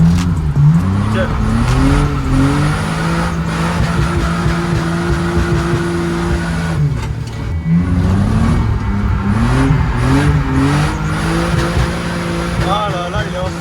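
A car drifting on a practice track revs hard through changing engine pitches, rising and dropping as it brakes and swings into slides. The roar is loud and continuous, and a voice talks over it.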